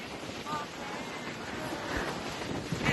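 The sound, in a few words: wind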